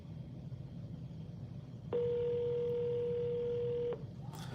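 Phone dialer during sales prospecting calls, a steady electronic tone holding about two seconds and then stopping, over a faint background hum.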